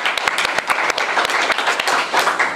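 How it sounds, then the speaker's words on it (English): A live studio audience at a talk-show taping breaks into applause, a dense, steady burst of many hands clapping close and loud with no voices over it. "Let's give them a round of applause."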